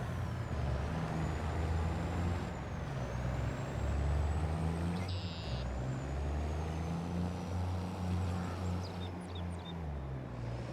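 A truck in Farming Simulator pulling away on a farm map in Monteith, Iowa, with a low steady diesel drone that shifts pitch as it moves, a brief hiss of air brakes midway, and faint whines above.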